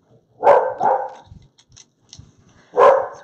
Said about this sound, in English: Where she barks at anything.